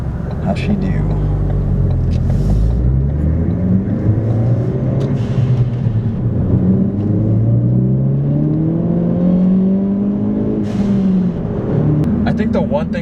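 A big-turbo Ford Focus ST with a 3071 turbo accelerates hard, its engine note climbing and dropping through several gear pulls as a steady rumble and whir fill the cabin, with brief talk over it.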